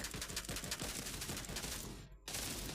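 Rapid bursts of gunfire crackle continuously in the video game World War Heroes, then cut out briefly before resuming, dense and loud throughout.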